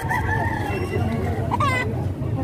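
Chickens for sale in Batangas, Philippines, cluck and call nearby over steady background bustle, with a short rising crow-like call partway through.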